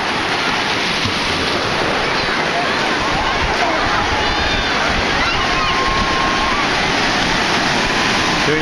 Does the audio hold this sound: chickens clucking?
no